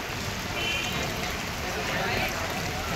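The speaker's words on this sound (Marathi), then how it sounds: "नेमका पाऊस आहे" Steady rain falling outdoors, a dense even hiss of drops on surfaces, fairly soft and continuous for the whole moment.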